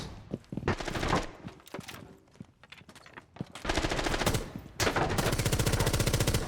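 Rapid automatic gunfire rings out in a tactical shooter video game, several sustained bursts of sharp repeated shots separated by short pauses and scattered single shots, loud and close with no voices.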